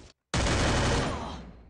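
A single 12-gauge shotgun blast in the Free Fire mobile game follows a brief gap, loud and close, its boom fading into a rumbling tail.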